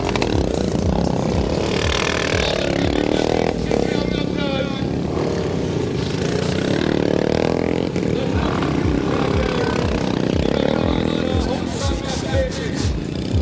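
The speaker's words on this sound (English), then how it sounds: "The guys just warming up their engines, warming up their bikes" Several dirt track bike engines warming up, revving and roaring at close range, their pitch rising and falling in repeated swells, with talk mixed in.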